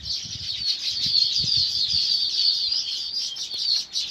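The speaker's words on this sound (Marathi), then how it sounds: "कसा आवाज करतोय बघा पक्षी आहे" A dense, high-pitched chorus of bird chirping carries on continuously, with soft low thumps and rustling beneath it.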